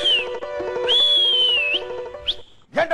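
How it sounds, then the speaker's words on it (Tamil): In a Tamil comedy sketch, a bus conductor blows loud, shrill whistle blasts: a short one, a long sustained one, then quick chirps, heard close over background music. "நான் கண்டக்டர், விசில் அடிக்க தான் என் வேலையே"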